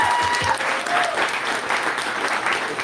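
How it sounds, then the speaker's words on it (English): Town hall audience in Manchester, New Hampshire clapping steadily, a dense, continuous wash of applause from a crowd, with a faint voice briefly audible near the start. "let's give her a round of applause for teaching our kids"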